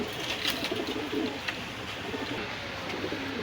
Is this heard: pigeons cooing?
yes